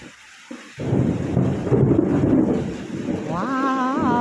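Distant thunder rumbles low and long through a thunderstorm, a deep rolling roar over steady rain and wind noise, with a bird's warbling call near the end.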